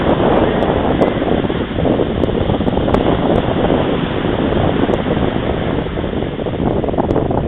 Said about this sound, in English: Waves make a lot of noise.